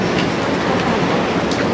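A train pulls into a New York City station with a steady, loud, close rumble of wheels on rails and faint clacking, brief and unbroken, with no talking.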